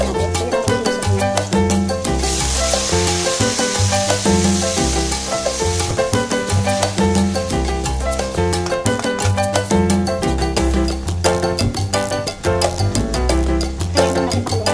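Marinated spicy pork sticks sizzle steadily in a hot pan, a loud, continuous frying hiss that carries on without pause and with no talking.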